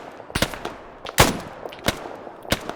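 Gunfire from a squad's second-in-command in the Arma 3 military game: about five sharp, irregular shots spread over a few seconds, fairly close, with no talking.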